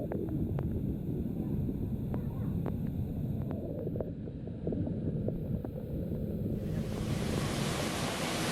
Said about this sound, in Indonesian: Air terjun Putri Kembar tingkat yang ketiga ini terbilang cukup unik.